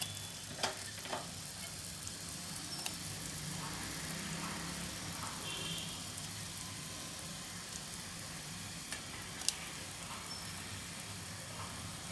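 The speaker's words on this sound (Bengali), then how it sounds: "এরপরে আমি ফুটন্ত জলে বলগুলো এক এক করে দিয়ে দেবো" Chinese-style potato balls are dropped one by one into a pot of boiling water, giving a faint, steady bubbling hiss with a few soft plops spread through the stretch. No one speaks.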